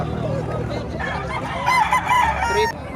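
A rooster crows once, a drawn-out call over a low background rumble with faint murmuring, at a chicken market in Batangas, Philippines.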